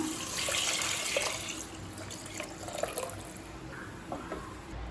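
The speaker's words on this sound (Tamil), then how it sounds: "அடுத்தது இது கூடவே 4 கப் தண்ணி சேர்த்துக்கலாம்." Water pours and splashes into a cooking pot, a soft, fairly quiet gurgling stream with small drips and clinks, no voices.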